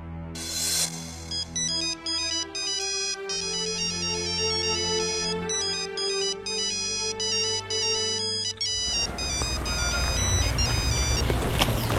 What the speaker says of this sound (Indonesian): Ada mbak telepon ya.